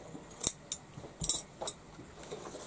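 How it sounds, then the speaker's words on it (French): Scissors snip the loose threads off a freshly sewn fabric tote bag, giving a few crisp, close cuts at irregular intervals against a quiet background. "Alors je coupe tous mes fils."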